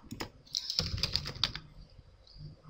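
Quick, close clicks of fingers typing a short search query on a computer keyboard, a brief run of keystrokes that fades into quiet room noise.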